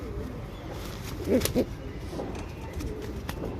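A male tambral pigeon gives a couple of short, soft coos close by, standing out briefly over a steady background hiss with no speech.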